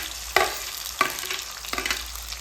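Tomatoes dropped into hot oil with curry leaves fry and sizzle in a pan, a few sharp bursts as pieces land and are stirred, over a steady soft crackle, close and without talk.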